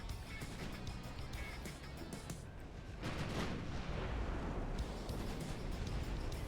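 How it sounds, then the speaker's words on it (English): Heavy 14-inch naval guns fire in the warship battle game Ultimate Admiral Dreadnoughts, deep booming blasts rolling over a dense roaring battle din, with a second loud burst partway through. "Those are 14-inch gunshots."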